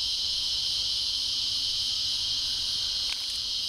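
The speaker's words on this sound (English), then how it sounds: "Listen to those cicadas." Loud, steady high-pitched cicada buzzing fills the air without a break, with a faint click near the end.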